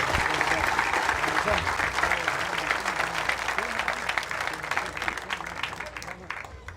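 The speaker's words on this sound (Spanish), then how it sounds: "Un aplauso fuerte para este hermano" An audience at a Catholic priest's question-and-answer gathering claps in a dense, sustained round of applause that stays strong before tapering slightly toward the end.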